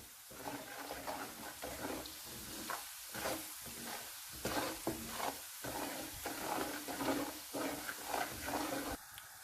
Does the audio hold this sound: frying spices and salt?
yes